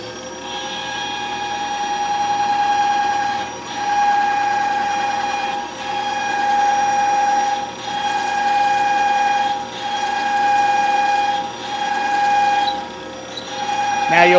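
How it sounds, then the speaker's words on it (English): A CNC mill runs a 5/8 drill down into a track adapter workpiece, giving a steady machine whine with strong tonal hum and periodic dips as each hole is drilled, loud and continuous without talk. "And now we'll run our 5/8 drill down."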